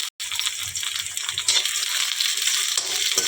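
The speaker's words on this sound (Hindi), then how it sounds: "और ये जीरा सरसों और थोड़ा सा मेथी फोरन दे रही हूँ" Cumin, mustard and fenugreek seeds frying in a little oil in a kadhai for tempering, a steady close hiss and crackle of sizzling with soft stirring knocks underneath.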